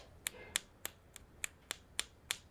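Sharp metallic ticks repeat at a steady pace, about eight crisp fingernail flicks on a golf iron head with a faint ringing edge, close up and alone.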